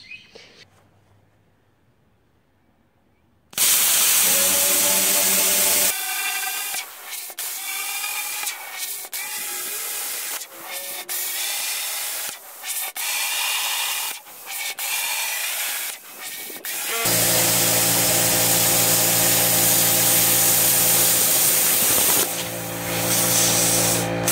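Stick welding with a 6011 rod on an AC welder while building a three-point landscape rake frame, a loud harsh crackling hiss that starts abruptly, breaks off in short gaps midway, then runs steady and buzzing to the end.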